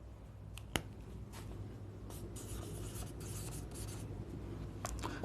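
Marker or chalk strokes on a board during an English grammar lesson, a steady run of short scratchy writing strokes at moderate level over a constant low background hum, with one sharp tap early on.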